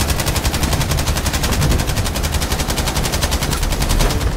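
Loud, continuous machine gun fire in Battlefield 5, a fast, even stream of shots from a mounted gun, close and unbroken for the whole stretch.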